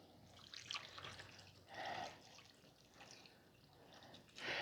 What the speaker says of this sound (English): I want to put some chicken broth